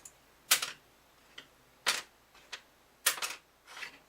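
A bone acoustic guitar saddle is dropped repeatedly onto a hard surface, giving four sharp, bright clicks with short rattling bounces, spaced about a second apart, close and clear.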